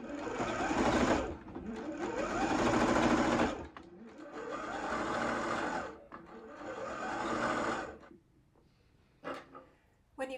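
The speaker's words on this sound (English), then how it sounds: "we're going to then go back to the sewing machine and sew all the way around the neck edge" A sewing machine stitches around the neck edge of a top, running in three sustained whirring bursts of a few seconds each, close and loud, with short pauses between them.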